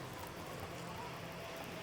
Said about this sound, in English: Man, that wind sounds so bad.